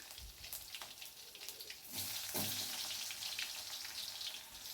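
Garlic and onion frying in hot oil with mustard seeds for a mango curry, a faint close crackling sizzle that swells louder partway through, with no talking.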